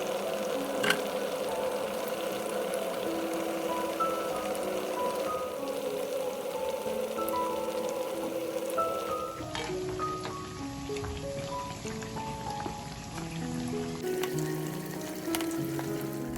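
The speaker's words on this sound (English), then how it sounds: "Keep frying till the dal mix is over." Dal fritters (parippuvada) frying in oil at low flame, a continuous crackling sizzle under music, holding steady for the whole stretch.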